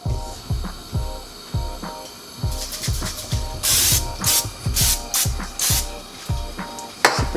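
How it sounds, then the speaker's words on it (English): Non-stick cooking spray hisses from a can into a pan in several short bursts over light clatter and thuds. "We got some pan, some non-stick spray."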